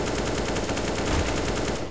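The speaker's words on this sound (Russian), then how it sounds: "пока я вижу очень косую стрельбу, очень плохой спрей" Rapid automatic gunfire in CS:GO, a continuous loud burst of closely spaced shots spraying without pause for nearly two seconds, with no talk over it.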